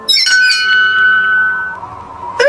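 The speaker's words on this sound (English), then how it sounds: "Let's ring the bell." A bell at a cartoon castle in the clouds rings with several bright, clear metallic strikes whose tones ring on and slowly decay, loud and close, another strike near the end, no talking.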